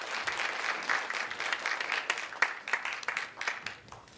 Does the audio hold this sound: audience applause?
yes